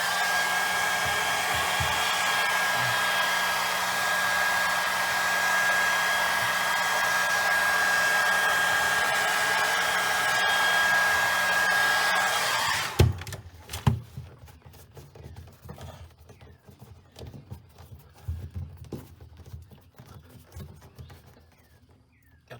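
A heat gun blows hot air onto VW Beetle headliner material with a loud, steady, whirring roar for about thirteen seconds, then shuts off, leaving faint handling noises.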